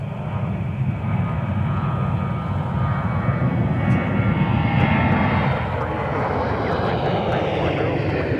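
A large airliner at Minneapolis–St. Paul airport roars steadily nearby with a broad, sustained engine rumble that swells slightly and then holds for the whole stretch.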